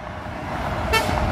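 One short, loud truck horn toot sounds over a steady rumble of traffic noise.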